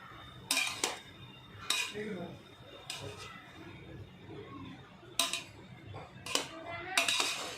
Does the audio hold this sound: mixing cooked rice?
yes